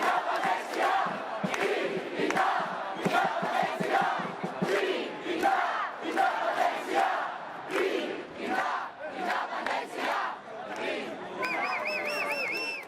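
A large crowd of Catalan independence protesters shouts and chants in rhythmic, sustained waves, loud and dense throughout, with a brief whistling tone near the end.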